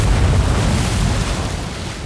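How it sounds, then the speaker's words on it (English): A great explosion as a pressurised container of ancient water bursts, a deep, loud, rumbling boom that fills the whole moment and slowly tails off. "and then the great explosion."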